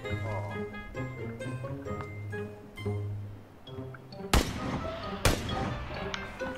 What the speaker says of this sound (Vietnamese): Tôi đang bắn anh rồi mà.